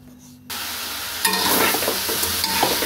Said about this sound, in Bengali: এই যে চাল কুমড়ো ভাজি করব।